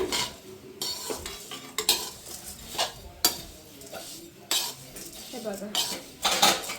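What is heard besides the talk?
stirring spicy poha mixture in pan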